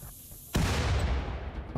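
A sudden loud boom of turret fire in the video game Rimworld erupts after a quiet moment and rumbles on heavily to the end.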